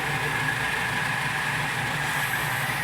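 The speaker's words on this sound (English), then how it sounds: "I'm going to face off this piece of bar stock right now and get that RPM up just a little bit." A lathe faces off a piece of bar stock with a steady, even machine drone and a faint whine. The sound holds constant throughout at moderate volume, with no voices.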